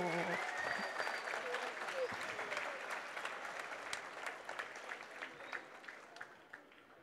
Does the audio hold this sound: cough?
no